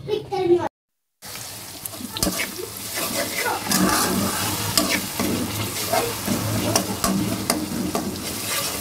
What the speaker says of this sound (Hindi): पहले मैं दाल को तड़का लगा दूँ